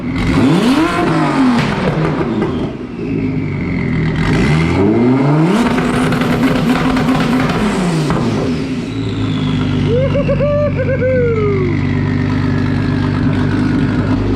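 An Audi S4 drift car engine roars on a Mustang chassis dyno, loud and close, sweeping up through several hard rev pulls with rising and falling pitch, then easing back to a rumbling idle.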